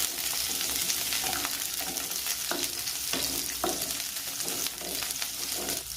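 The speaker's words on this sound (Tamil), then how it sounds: "இப்போ ஆயில் ஹீட் சின்ன வெங்காயம் சேர்த்துக்கலாம். சேர்த்து மிக்ஸ் பண்ணிக்கலாம்." Small onions hiss and crackle loudly in hot oil in a kadai, a steady close sizzle broken by the scrape of a spoon stirring them through, with no talking.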